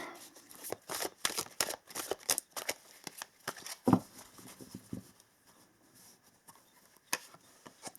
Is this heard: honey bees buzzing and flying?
no